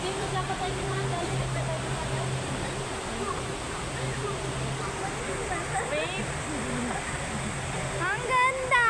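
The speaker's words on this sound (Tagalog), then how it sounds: "wow, the falls" Steady broadband roar of a waterfall filling the scene outdoors, constant and fairly loud, with people talking over it and faint bird chirps near the end.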